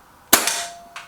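Trimex Arms Elf S air rifle fired once at a paper target: a single sharp, close crack followed by a brief ringing tail and a faint second tick from the pellet strike.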